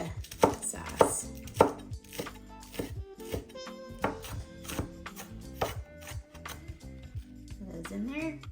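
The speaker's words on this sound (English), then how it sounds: "we're gonna just slice up these green onions" A knife slices green onions on a cutting board, a close series of sharp, irregular chopping taps with clinks and a faint voice in the background.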